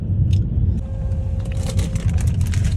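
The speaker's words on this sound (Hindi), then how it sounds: "चले अब गाड़ी दौड़ानी है" A car being driven on the road hums steadily from inside the cabin, with continuous low road and engine rumble and a few light rattles and clicks.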